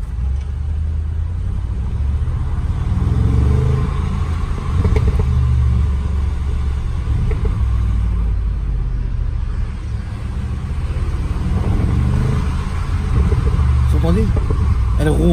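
An Audi RS7 idles with a deep, steady low rumble heard from close by throughout, its purr continuous and smooth, with faint background sounds over it.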